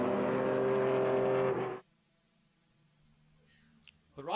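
Vintage race cars including a Lotus and a Datsun at Mid-Ohio, one engine screaming loudly at high revs for under two seconds, then cutting away to near quiet with a distant engine hum and a faint rise again at the end.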